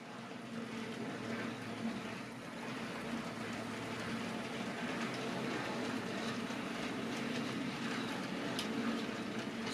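Clark Railworks diecast-chassis demountable tanker model train running through points, a continuous close rolling rumble and rattle of wheels on track, steady and fairly loud with no talk.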